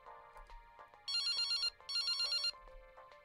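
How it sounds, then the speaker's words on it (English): A phone ringing in the horror visual novel Sunny Day Jack: two loud electronic trill bursts, each about half a second long, with a short gap between them, standing out over a quiet background of soft game music. "My phone rings"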